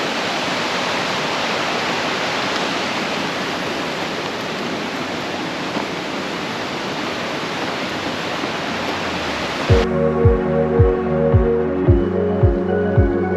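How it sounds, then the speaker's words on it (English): Waterfall at Llanberis roaring as a loud, dense, steady rush for about ten seconds, then cut off abruptly and replaced by a rhythmic tonal beat. "So that was the waterfalls, guys."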